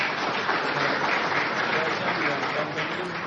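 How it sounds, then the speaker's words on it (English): Sustained applause from an audience at a veterinary pathology symposium at a college in Ranchi, a dense, steady clapping wash lasting throughout with no pauses. "Big round of applause once again for"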